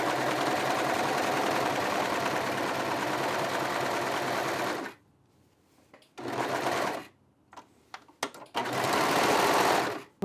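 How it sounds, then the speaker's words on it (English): A serger runs a rolled hem on wrap-skirt fabric in a steady, close, loud mechanical whir that stops after about five seconds, then starts again in short bursts and one longer run. No voices are heard. "I just tested my serger here and I'm super pleased with the result"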